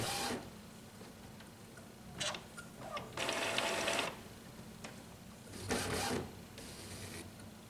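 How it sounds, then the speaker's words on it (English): An Epson inkjet printer's cartridge holder moves with several bursts of mechanical whirring and clicking, separated by brief quiet gaps, close and fairly loud in a quiet room. "The ink cartridge holder will move to the middle of the printer."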